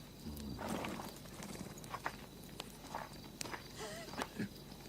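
Horse hooves clop at a slow walking pace, several irregular hoofbeats close by over a quiet outdoor background.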